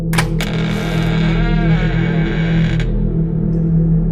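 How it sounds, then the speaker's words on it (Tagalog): A door creaks slowly open as a horror-story sound effect, a long drawn-out groaning creak with an echoing, distorted quality over a steady low drone, fading away near the end. "Dahan-dahan namin binuksan ang pinto."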